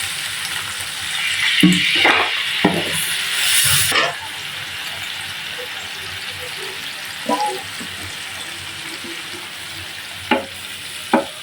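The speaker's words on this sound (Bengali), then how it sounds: "তো মশলাটা আমি ভালো করে কষিয়ে নিব" Ground spices with ginger-garlic paste, chili, turmeric, cumin, cardamom, cinnamon and bay leaves fry in a pot, scraped and stirred with clattering knocks over a steady sizzle; the stirring bursts come early, then the sizzle runs on alone with occasional scrapes.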